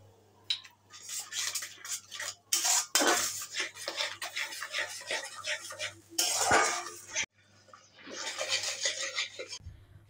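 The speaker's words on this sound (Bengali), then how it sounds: "দিয়ে ভালো করে একটু কষিয়ে নেব, যাতে কাঁচা গন্ধটা চলে যায়।" Spices being stirred and fried in a pan for vegetarian aloo dum, with a metal spoon scraping and clinking against the pan in close, irregular strokes over a low steady hum.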